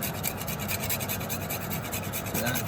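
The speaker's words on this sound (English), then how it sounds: "we're going to carry on grating the nutmeg" Whole nutmeg grated for a custard tart, a continuous close rasping scrape with a fast, even back-and-forth rhythm, steady and moderately loud with no voices.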